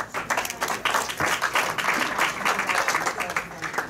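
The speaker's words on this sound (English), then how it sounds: "George Moretz gets a lot of applause" Applause at a Rotary Club of Hickory meeting welcoming visiting guests: a crowd claps in a steady, fairly close patter throughout, with no clear speech.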